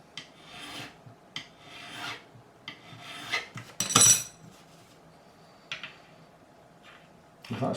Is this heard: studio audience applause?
no